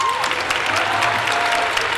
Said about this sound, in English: So let's give the family members and the support network that we have a round of applause